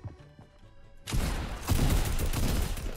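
A sudden burst of rapid Fortnite gunfire after a short quiet start, staying loud and dense to the end, with a heavy thump partway through.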